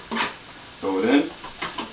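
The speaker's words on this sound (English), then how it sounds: "Mix it up a little bit so it doesn't stick to the bottom." Carrots and mushrooms frying in oil in a pan are stirred in short scraping bursts, with soft sizzling in between, close up and fairly quiet.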